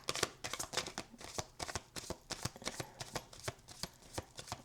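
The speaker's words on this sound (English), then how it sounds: "Let's get a good shuffle" Tarot cards shuffled by hand in quick repeated riffles and flicks, a steady crisp rhythm of papery bursts heard close up with no talking.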